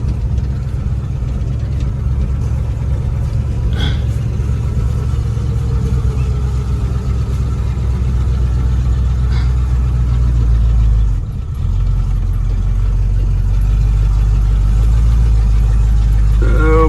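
An old car is driven slowly into its parking spot, its engine giving a loud, close, continuous low rumble that holds steady throughout with only a brief dip.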